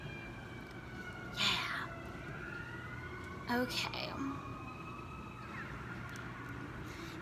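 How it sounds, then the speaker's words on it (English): Emergency vehicle sirens wail in a downtown city, distant and sweeping in pitch beneath steady background noise, while a person speaks briefly nearby. "there's some serious sirens happening downtown."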